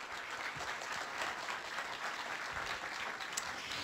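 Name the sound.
applause for NASA launch team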